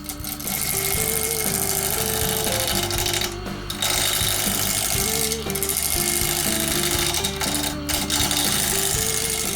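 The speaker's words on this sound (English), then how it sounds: "I'm turning the chisel over one direction then the other, and then following the tool in that direction" A wood-turning chisel cuts a bowl from hard plywood off-cuts on a lathe, a loud continuous grinding chatter with a steady mechanical drone and brief dips as the tool lifts off.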